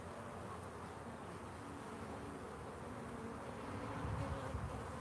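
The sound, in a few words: honeybees buzzing during a live hive inspection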